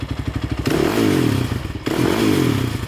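A Honda TRX450R ATV engine idling roughly and loudly nearby just after starting, with a pulsing, rattling putter and two quick revs that swell and settle back.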